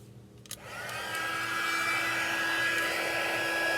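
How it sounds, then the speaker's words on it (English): A heat tool whirs steadily as it melts silver embossing powder on a card, starting after a brief click and swelling to a loud, continuous blowing hiss that holds with a faint tonal whine. "Now I have my heat tool. I'm going to bring that in, and I'm just going to heat emboss this."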